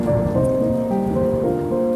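Cartoon rain and storm in a Hindi animated story about birds: a steady wash of rainfall noise runs through the whole short stretch, loud and continuous, with sustained musical tones layered over it and no voices.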